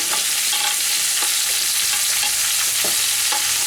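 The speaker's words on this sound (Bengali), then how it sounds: "ডাঁটা দিয়ে খুব ভালো করে আমি মিশিয়ে দেব" Mixed vegetables including pumpkin, ridge gourd, eggplant and drumsticks are stirred in a hot frying pan, a constant loud sizzle broken by repeated scraping strokes of a spatula against the pan, with no talking.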